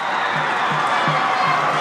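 A dense, steady roar from the crowd at a high school football game between Memorial and Liberty, a continuous loud wash of cheering that fills the stadium.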